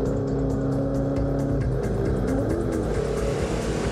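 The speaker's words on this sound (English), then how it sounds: "This is Dick Johnson in Peter Brock's A9X" A Holden A9X Torana race car driven hard, its loud V8 engine roaring steadily close by with shifting pitch as it accelerates, with no talk over it.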